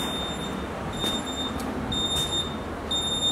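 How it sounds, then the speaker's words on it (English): An electronic device, likely a newly armed alarm system, emits a high-pitched tone in regular beeps of about a second each with short gaps, over a steady low background hum. "Why is that thing beeping?"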